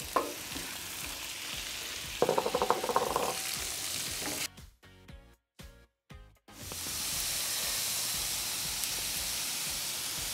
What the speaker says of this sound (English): it's time to put the steak down